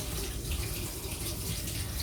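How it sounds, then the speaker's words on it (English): Hot water running from a kitchen tap to rinse the sticky top of a Canadian maple syrup bottle, a steady close hiss and splash that continues evenly throughout. "Sometimes I have to rinse it under hot water"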